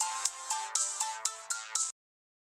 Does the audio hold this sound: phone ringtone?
yes